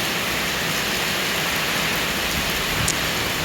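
Steady rain falls in a rural setting near rice fields, a dense, even hiss of drops that fills the scene without pause, moderately loud, with no voices.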